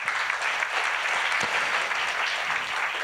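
Steady, dense applause from a conference audience at a sustainability event, a full crowd clapping evenly and continuously at close range with no voices above it.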